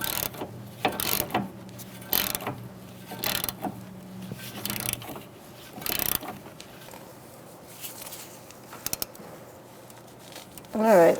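Ratcheting 18 mm wrench tightening the nut on a front sway bar link of a 2013-2018 Toyota RAV4, heard as several short bursts of mechanical clicking spread across the clip with quiet gaps between them, close to the microphone.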